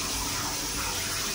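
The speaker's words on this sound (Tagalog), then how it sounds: "Ang tubig na lumalabas yan is talagang hindi yung galing sa tangke" Natural hot spring water pouring into a private Japanese onsen bath beside a mountain, a continuous, close, even gushing that fills the whole moment.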